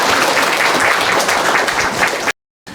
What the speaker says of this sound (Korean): 우리 선생님에게 박수 한번.